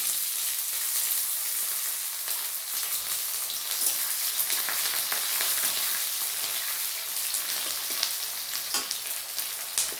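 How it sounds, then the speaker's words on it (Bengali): About 150 grams of chopped onions fry for a mutton and potato curry, a dense, continuous hissing sizzle close by with faint crackles and no talk. "ভালো করে আমি পেঁয়াজটাকে ভেজে নেব"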